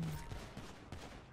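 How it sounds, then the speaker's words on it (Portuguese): Gunfire traded between police and Ballas gang members in GTA 5, a faint, rapid crackle of several shots running through the whole short moment. "Ah, eles trocam tiro. Eles trocam."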